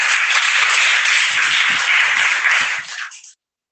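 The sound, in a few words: audience clapping hands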